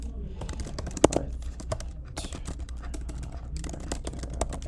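Typing on a computer keyboard while entering sign-up details on a website, quick irregular clicks close by in bursts with a short pause partway, over a low steady hum.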